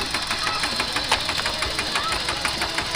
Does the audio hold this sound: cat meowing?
no